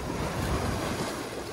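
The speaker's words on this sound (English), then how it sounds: "Look at all those waves." Ocean waves and surf wash in a steady, broad rush with wind buffeting the microphone, brief and close.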